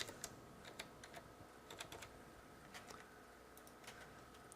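Rapid typing on a computer keyboard, a run of light, irregular clicks at close range over a faint steady room hum, with no voices.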